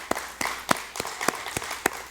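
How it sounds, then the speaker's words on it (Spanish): A church congregation applauds the fathers on Father's Day with sparse, steady clapping, several distinct claps spread evenly over a couple of seconds. "Un aplauso para los papás"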